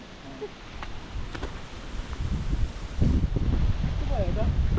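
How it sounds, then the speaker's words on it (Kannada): Sea wind gusts buffet the microphone at Bisle Ghat view point near Sakleshpur, Hassan, in a steady low rumble, growing stronger toward the end, with a faint voice briefly underneath. "ಸಮುದ್ರ ಗಾಳಿ ಬೀಸುವ ಸಮಯ"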